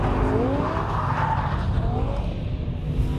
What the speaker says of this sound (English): And doesn't that engine sound amazing?